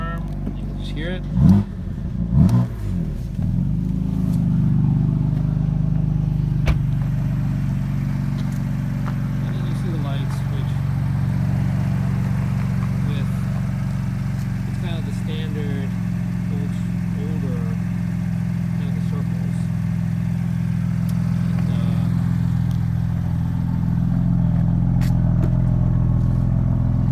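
A BMW M4 engine starts with a brief clatter, then settles into a steady, deep idle that carries on at an even level, with a slight rise in revs near the end.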